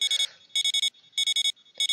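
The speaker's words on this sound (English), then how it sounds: "Oh, my annoying alarm has gone off." Shrill electronic video game alarm clock beeping in rapid bursts of four, repeating at a steady rhythm, loud and close.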